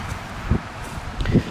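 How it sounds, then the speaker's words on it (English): Autumn wind buffeting a microphone outdoors beside a parked Toyota Camry, a steady low rumble with two stronger gusts thumping through, close and fairly loud. "I also want to apologize for the wind right off the bat here"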